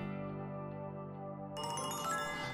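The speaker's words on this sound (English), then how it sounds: "My phone begins vibrating violently in my back pocket" A mobile phone rings with a steady electronic ringtone, joined partway through by a brighter, louder pattern of tones, close and with no talking.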